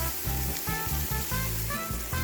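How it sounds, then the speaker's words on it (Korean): Soy sauce sizzles and bubbles in a hot pan beside stir-fried green onions for anchovy stir-fry, a close, steady crackling hiss with bubbling pops. "빈 공간에 간장을 넣어 살짝 끓여 불맛을 내주세요"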